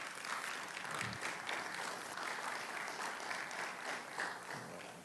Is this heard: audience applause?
yes